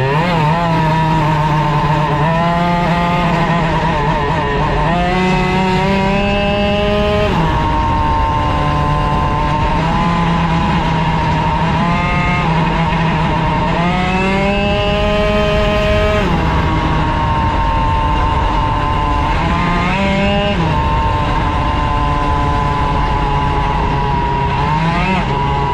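Bidalot RF 50 WR motorcycle engine running far too rich at part throttle, revving loudly and unevenly in repeated rising and falling surges, a continuous buzzing drone with no talk over it.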